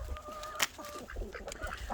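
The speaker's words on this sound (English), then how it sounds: "Chickens! Chickens!" Backyard chickens cluck in short, close bursts, with a few scattered squawks and rustling around the feeding area. No speech is heard.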